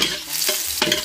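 Garlic fries in hot oil, a bright close sizzle cut by two quick scraping stirs of a spatula.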